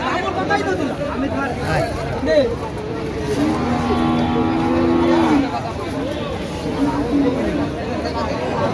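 Cattle at a neighbourhood cattle market in Jhinaidah during the 2025 Qurbani season low loudly in one drawn-out moo amid a busy hubbub of chattering buyers and sellers, with someone talking close by.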